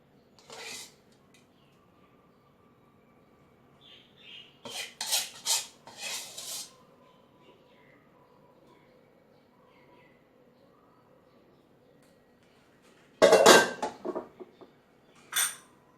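Dishes and utensils clink and scrape in a few separate bursts while three-flavour sea bass is plated, with scattered sharp clatters between quiet gaps and a brief louder cluster near the end.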